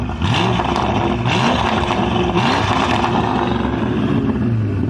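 Loud, close revving from a Bentley engine held around 4000 rpm, a steady deep roar that surges in repeated waves for several seconds with nobody talking.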